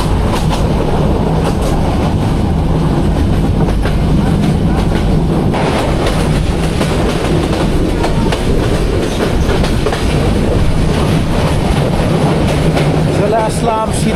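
The Nasirabad Express, a local train from Feni to Chattogram, rumbles along loud and close with a continuous clickety-clack of wheels on rail, steady throughout.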